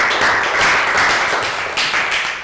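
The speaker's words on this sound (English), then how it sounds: "High five. Round of applause for Pankon." Close, loud clapping from a classroom of students in an English lesson, a short burst of rapid hand claps that fades slightly toward the end.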